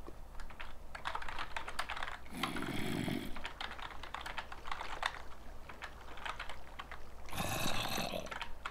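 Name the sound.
typing on a computer keyboard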